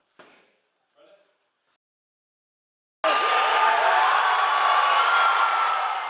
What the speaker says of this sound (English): The fans were cheering for Solveig Skarhus